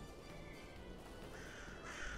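Crows caw repeatedly in the video game S.T.A.L.K.E.R. Clear Sky, harsh calls over a steady ambient game background, slightly louder near the end.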